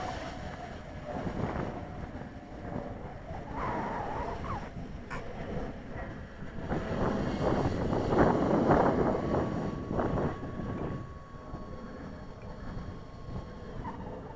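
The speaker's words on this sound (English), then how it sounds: "Now that's quite a strong wind coming towards me, to say the least." Strong gusts buffet a microphone out on the water during a boat trip in very strong winds, a loud continuous rumbling roar that swells and eases over the whole stretch, with no voices.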